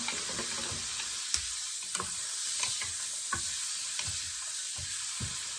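Tofu stir fry with carrots and a couple handfuls of bean sprouts sizzles steadily in a pan, with a few sharp clinks and scrapes of stirring breaking through the constant hiss.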